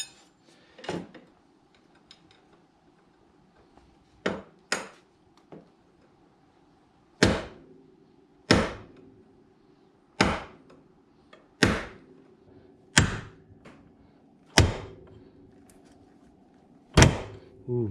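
Sharp metallic hammer blows drive a pin into an ATV at irregular intervals, about a dozen impacts with short ringing decays and quiet pauses between them.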